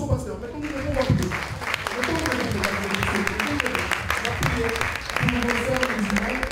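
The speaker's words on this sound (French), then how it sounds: "sous applaudissements, applaudissons pasteur" Crowd applause for a pastor at a surprise birthday celebration continues throughout while voices talk and call out over it, fairly loud and close.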